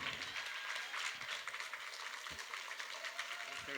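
An audience applauds to welcome a speaker onto the stage, a soft, continuous patter of many hands clapping that is heard from a distance and stays steady throughout.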